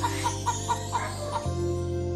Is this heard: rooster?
yes